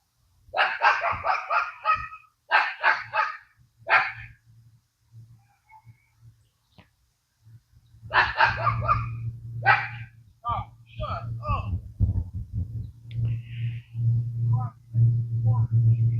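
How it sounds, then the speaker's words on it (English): A dog barks indoors or near a house, apparently at a mouse in a storage bin, with short bark bursts in irregular clusters over a low steady hum, while a person talks at length between and over them. "I think he barking because"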